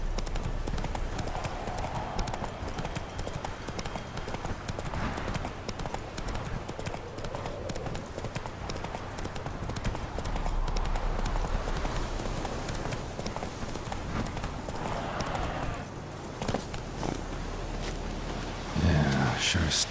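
Horse hooves in The Witcher 3: Wild Hunt, a steady rhythmic clip-clop galloping close by throughout, with ambient game sound beneath.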